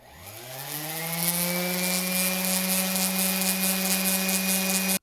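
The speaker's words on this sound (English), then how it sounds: "do you know what Zach uses to shape wooden headphone cups? What? Circular sander" A circular sander shaping wooden headphone cups, heard as a steady rising whine that spins up and then holds an even, loud tone before cutting off abruptly, with no talk.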